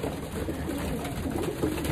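A loft full of pigeons gives a continuous low cooing murmur, many birds overlapping into a steady, close hum with faint scuffling.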